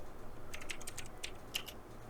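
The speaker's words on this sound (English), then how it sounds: "let's go to Google and let's type in Garmin Panoptix" Keys clatter on a computer keyboard as a web search is typed, a short run of light, close clicks in an irregular burst over a quiet room hiss.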